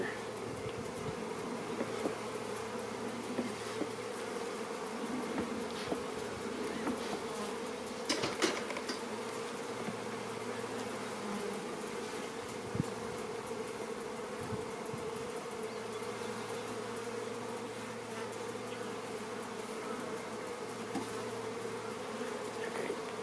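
Honeybees drone steadily at an opened hive, a dense, continuous buzz close around, broken by a few soft knocks and clicks from handling the frames.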